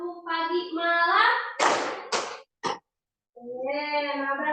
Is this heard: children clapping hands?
yes